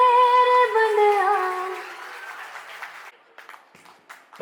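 Audience applause rings out at a school annual function, loud at first and then fading to scattered claps. A voice speaks over the start.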